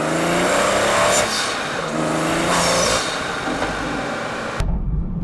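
A tuned BMW 340i with the B58 engine and a manual gearbox accelerates hard, its engine note climbing loud and steady through two rising pulls before it cuts off sharply near the end.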